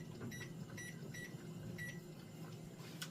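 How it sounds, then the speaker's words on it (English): Kitchen microwave being set for a timer, giving a handful of short electronic button beeps spaced unevenly over a low steady hum, quiet and close. "now I'm going to set a timer on my microwave for 15 minutes."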